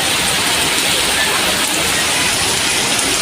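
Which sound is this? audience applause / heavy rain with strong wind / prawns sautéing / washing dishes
heavy rain with strong wind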